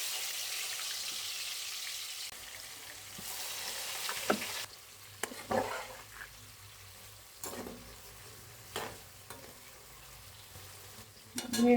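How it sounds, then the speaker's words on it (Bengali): Salted, lightly spiced French fries dropped into hot oil, giving a faint, soft hiss with a few sharper clatters and bursts of stirring, heard close and quiet with no talk. "আমার তেলটা গরম হয়ে গেছে, এখন আমি ফ্রেঞ্চ ফ্রাইটা দিয়ে দেব"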